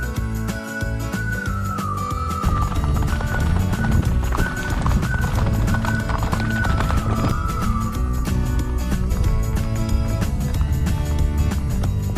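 Horse hooves on a hill trail ride near Inle Lake in Myanmar, a steady clip-clop running the whole way through and mixed with a sustained whistling melody.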